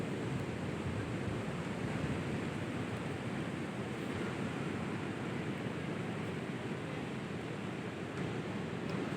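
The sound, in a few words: large ocean waves at a beach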